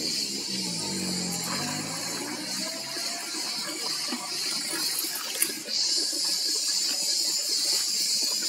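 Water running steadily from a broken tap that will not shut off in a national park canyon, a continuous close splashing hiss with no speech over it.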